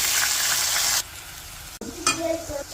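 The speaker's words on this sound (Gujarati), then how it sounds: "એમાં 1 ટીસ્પૂન હિંગ નાખીને લીલી ડુંગળી અને લીલું લસણનો વઘાર કરવાનો છે" Asafoetida, green onion and green garlic hit hot oil for tempering: a loud sizzle drops suddenly, then stirring clatter and renewed frying follow.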